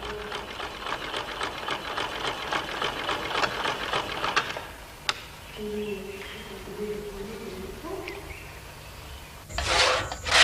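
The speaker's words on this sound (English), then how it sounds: "teaches sewing on a machine provided by communist China" A sewing machine supplied by communist China runs in a rapid, steady mechanical stitching rhythm for several seconds, then stops, leaving quieter rustling and handling noises and a brief burst of noise near the end.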